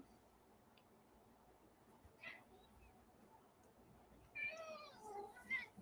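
A house cat meows faintly a few times indoors, short soft cries near the end over quiet room tone.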